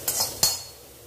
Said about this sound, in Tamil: இலை, பட்டை, லவங்கம், ஏலக்காய் எல்லாத்தையும் சேர்த்து மொத்தமாக வறுத்துடலாம்.